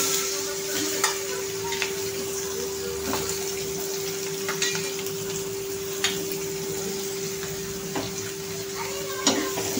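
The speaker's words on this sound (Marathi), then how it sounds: "त्यामुळे छान असा कांदा फ्राय करून घ्यायचा आहे आपल्याला लालसर" Onion frying in oil in a pan while cooking sandge bhaji, a Maharashtrian curry. A steady, even sizzle runs throughout, broken every second or so by soft stirring scrapes and clinks.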